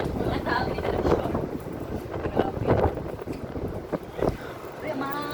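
Strong gusty wind roars across the open deck of a cruise ship, a loud buffeting rush with microphone wind noise, while people talk faintly beneath it.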